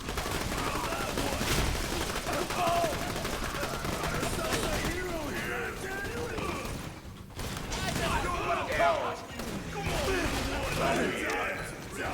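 Rapid gunfire from Borderlands 2 rattles in dense bursts of sharp shots and mechanical clatter throughout, with a voice talking over the battle noise.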